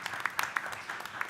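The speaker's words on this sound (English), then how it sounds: "her husband, Will, big round of applause" A brief patter of hand claps at a school board meeting, a handful of scattered sharp claps from a small group, fairly faint and short.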